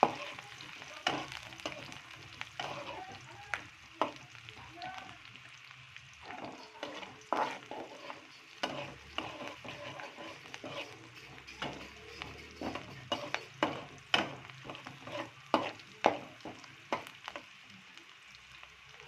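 Finely chopped onion with bay leaf frying in oil in a pan until reddish, a close steady sizzle broken by frequent sharp scrapes and clinks of stirring throughout.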